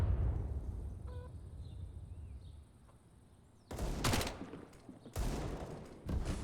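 Bursts of rapid gunfire from a Counter-Strike match on the Inferno map, two loud volleys in the second half after a quieter stretch of faint ambient game sound.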